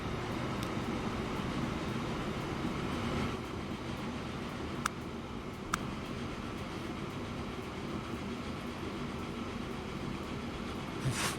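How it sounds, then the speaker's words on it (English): A train in the game Transport Fever 2 rumbles steadily close by, with a continuous low rolling drone and a few sharp metallic clicks and knocks along the way. "Oh, new train."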